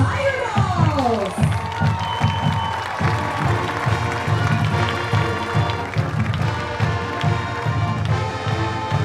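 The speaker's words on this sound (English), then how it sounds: "give a round of applause for the Mount Pleasant High School Tiger Dolls" A crowd at a high school football game applauds and cheers for the Mount Pleasant High School Tiger Dolls, a steady mass of clapping and shouts with rhythmic thumps underneath, loud and sustained throughout.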